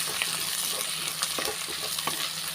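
Small onions and a large sliced onion sautéing in a pan, a dense continuous sizzle with faint scattered stirring clicks underneath, close and steady throughout.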